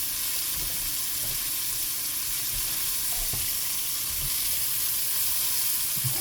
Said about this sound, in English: We're going to put onions in here and a little bit of broth to deglaze the pan.